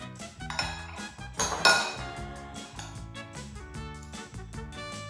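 A metal spoon scoops small avocados and knocks against a dish, giving a run of close, irregular clinks and scrapes with a few sharper clatters, and no talking.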